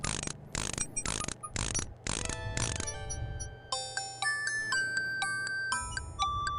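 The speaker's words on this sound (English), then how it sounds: "The mechanical nightingale sings a sweet, tinny tune." A mechanical nightingale in the King's Quest 6 video game plays a sweet, tinny tune. A few rhythmic bursts give way to a bright, chiming sequence of clear electronic tones, played alone with no talk.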